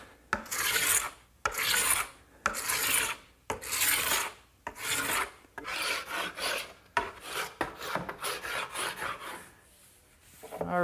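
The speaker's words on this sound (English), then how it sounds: "So I'm just going to use a scraper and remove all that wax." A hand scraper drags across rough wooden stock to strip off wax, making repeated loud, raspy strokes in a steady back-and-forth rhythm, close by and with no talking.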